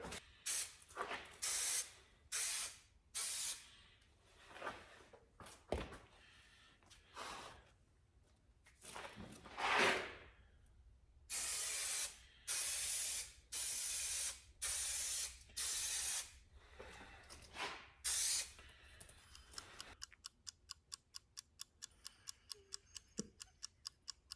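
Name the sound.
spraying the back side of boat headliner pieces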